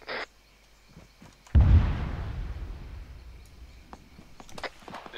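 Distant artillery and gunfire in the Arma 3 video game: one heavy boom rolls out and decays over a couple of seconds, followed by faint scattered pops and cracks.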